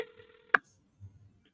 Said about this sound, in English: You guys can hear that phone ring, right?